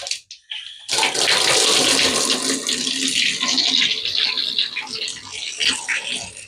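Water gushes hard from a freshly rebuilt shower faucet with its stems turned on, starting abruptly after a second of quiet and then running loud and steady, sputtering a little as air clears from the line.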